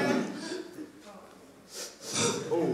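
A person sniffs closely at a puppet toy, with breathy snort-like inhalations coming in short bursts near the microphone, the clearest ones toward the end.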